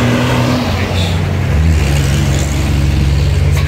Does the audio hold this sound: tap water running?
no